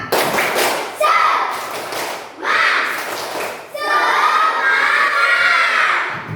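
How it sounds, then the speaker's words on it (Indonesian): Schoolchildren in a classroom lesson chant loudly in unison in bursts, their shouted syllables mixed with clapping and thumping, three energetic rounds with short pauses between. "coba kita tepuk semangat dulu"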